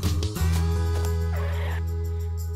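A bird in the video game Fire gobbles like a turkey in a loud, continuous burbling call over a steady droning game soundtrack.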